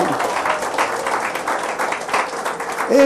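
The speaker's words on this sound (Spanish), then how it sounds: "Dile un aplauso al Señor." Church congregation applauding during a Spanish-language Easter resurrection sermon, a steady wash of many hands clapping for about three seconds, with a slight swell at the very end.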